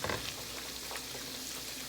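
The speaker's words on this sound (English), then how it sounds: "we're going to cook this for like 1 minute till the butter melts" Butter and garlic sizzle steadily in a hot pan, a dense and constant frying hiss with faint crackles. Nothing else can be heard.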